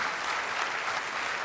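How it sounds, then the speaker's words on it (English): Applause from a seminar audience, a brief wash of steady clapping from many hands in the room. "Let's give them a big hand."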